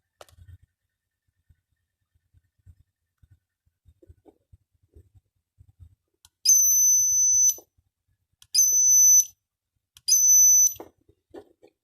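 A flyback transformer inverter runs a simple powerful high-voltage circuit, giving three bursts of steady high-pitched whine, each about a second long, after quiet clicks and faint handling noises.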